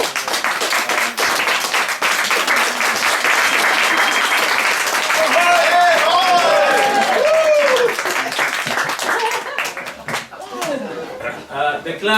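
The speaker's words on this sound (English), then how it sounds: "So a big round of applause for you." Guests at a Capital Polo Club end-of-year dinner party give a long, steady round of applause, close and loud, with laughter and scattered voices mixed in before the clapping tapers off.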